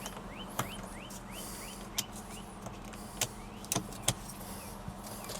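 A torque wrench clicks as it reaches 59 pounds while a steering wheel is being replaced on a Tesla Model Y: several sharp, separate clicks over a steady low hum, with no talking.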